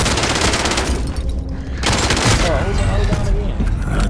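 Loud, rapid bursts of automatic gunfire and shots ring out in Call of Duty: Modern Warfare, nearly continuous with short gaps, while a player shouts over the fire.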